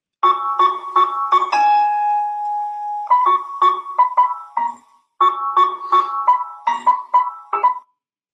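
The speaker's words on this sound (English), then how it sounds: "we reordered the musical events using the quantum random number generator" Prepared piano notes reordered by a quantum random number generator: plucked, bell-like tones in quick irregular clusters, with one longer held ringing note near the middle and a short pause before the last burst.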